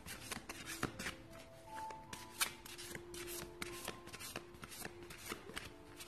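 A deck of playing-style oracle cards with a smooth, slippery finish being shuffled by hand, giving repeated crisp riffling and soft slapping bursts at a steady rhythm, close and fairly quiet with no talking.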